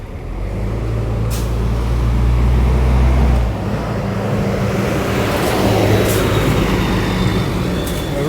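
A Copa Airlines jet taking off near a runway, a heavy, loud low roar with a steady rumble that shifts and continues as the aircraft climbs away, heard outdoors.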